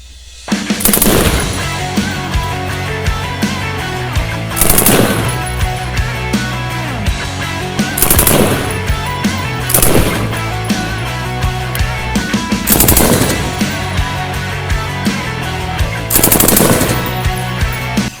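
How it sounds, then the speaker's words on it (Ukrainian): An M249 SAW belt-fed machine gun fires about six loud, sustained bursts at a steady pace, each roughly a second long, over continuous background noise. No one speaks. "Але це стрічковий кулемет."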